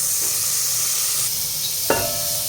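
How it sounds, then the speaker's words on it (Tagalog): Oil and margarine sizzle in a pan being heated for sautéing, a steady soft frying hiss with a sharper clatter near the end, close and alone. "Maggigisa na tayo. Unahin na natin yung mantika. Tapos, maglalagay rin tayo ng konting margarine."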